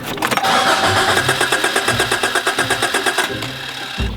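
A 1991 Geo Prizm GSi engine cranks without catching, a steady rhythmic starter churn of repeated pulses for about three seconds, then cutting off with a thump near the end.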